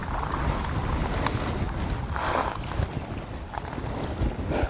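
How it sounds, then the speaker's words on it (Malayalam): Wind-driven waves on the Kulamavu dam reservoir lapping against the shore, a gentle splashing wash under steady gusts of wind buffeting the microphone. "ഇവിടെ കാറ്റത്ത് നമ്മുടെ ഡാമിലെ വെള്ളം ഇവിടെ തീരത്ത് വന്ന് തട്ടുവാണ്."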